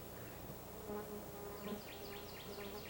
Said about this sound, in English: These insects include mosquitoes, deer flies, yellow flies, and horse flies like this one.